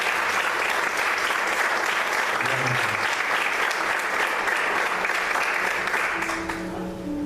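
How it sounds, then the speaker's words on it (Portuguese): A church congregation applauding during an evening service, with broad, sustained clapping from a full room that stays steady and loud, with a faint tone entering near the end as it begins to wind down. "Você pode aplaudir o Senhor nessa noite"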